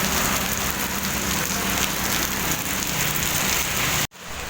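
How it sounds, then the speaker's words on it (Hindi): Steady heavy rain pours down, a dense even hiss of drops hitting surfaces that continues without pause before cutting off abruptly near the end. "तब तक बारिश का आनंद लेते हैं।"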